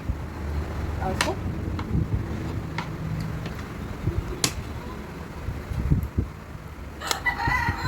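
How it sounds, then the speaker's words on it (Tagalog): A rooster crows outdoors, fairly faint and at a distance, against wind and background noise, with scattered soft sounds and occasional voices. "Ano nga, yung ganitong aking manok."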